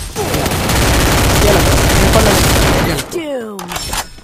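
Dense, rapid gunfire in a custom match of a shooter video game, a loud continuous volley that cuts off abruptly near the end, followed by a few scattered shots and sliding whooshes.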